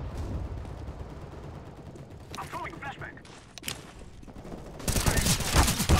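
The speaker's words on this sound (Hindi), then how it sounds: "गोलियां कहाँ से चल रही है" Gunfire in Counter-Strike: Global Offensive, with rapid bursts and rattling volleys crackling throughout. A short voice cuts in midway, and a louder, denser barrage breaks out at the end.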